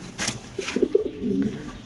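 A female Afsan Gizel pigeon gives a short, soft, low cooing murmur at close range over faint background noise.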